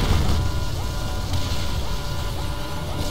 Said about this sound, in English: Would someone turn off that damn alarm?